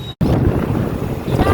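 Wind rushing past the microphone while riding on a highway, a loud, continuous, buffeting rumble after a brief dropout at the very start.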